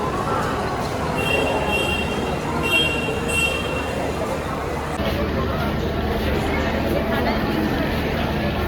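A train running in North Bengal in the rainy season, heard from inside the carriage as a steady rumbling roar with faint squeals; people talk intermittently over the noise.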